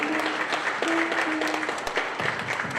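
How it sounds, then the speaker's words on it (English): A church congregation at a Sunday service applauds steadily, a dense wash of many hands that stays even throughout, with a faint sustained tone and some indistinct voices mixed in. "Can we applaud for that wonderful message?"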